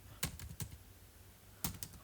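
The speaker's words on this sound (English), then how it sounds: "now I'm clicking shift plus F11" Computer keyboard keys pressed while working in Microsoft Excel, a few distinct, fairly faint clacks in two small clusters separated by a pause.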